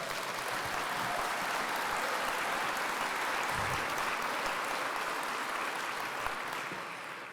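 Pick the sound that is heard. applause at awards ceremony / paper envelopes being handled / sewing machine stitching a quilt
applause at awards ceremony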